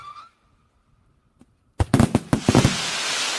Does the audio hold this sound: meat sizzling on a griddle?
no